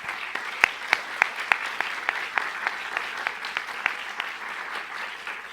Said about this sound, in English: So if we could all give a round of applause to them.